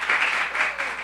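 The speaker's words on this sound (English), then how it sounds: "Clap if you're using your badge from a regional event." An audience at an event claps in a short, dense burst, a steady wash of many hands at moderate loudness with slight pulsing.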